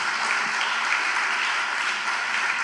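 A church congregation claps steadily together, a dense, even wash of applause filling the room with no break.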